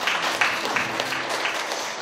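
Warm, continuous applause from an audience at a Korean book concert, dense and fairly loud with a few sharper claps standing out near the start.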